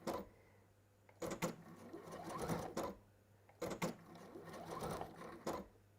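A sewing machine stitches a straight line around a fabric circle in two quiet runs of steady whirring, with soft clunks and handling noises at the starts and stops.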